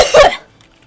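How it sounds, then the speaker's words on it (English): A single sharp cough, close and loud, followed by near silence. "That's what it sounds like. Coughing."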